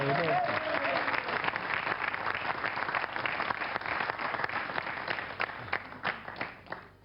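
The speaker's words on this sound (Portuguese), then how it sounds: "merece uma salva de palmas" Sustained crowd applause rises on a Mozambican youth programme about the Rio+20 conference, many hands clapping in a thick, continuous patter that thins slightly toward the end. A brief voice is heard at the opening.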